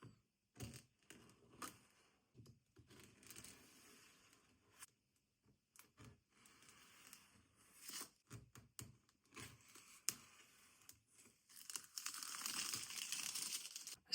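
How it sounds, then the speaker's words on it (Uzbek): Crinkling and tearing of Xiaomi Pad 7 tablet box packaging being cut open with a knife, quiet close scraping and rustling in scattered bursts, building to a steadier crackle near the end, with no talking. "Xiaomi Pad 7 bunaqangi o'zbekona pichoqda ushbu planshetimizni ochamiz"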